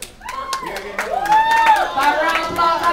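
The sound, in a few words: comedy audience applause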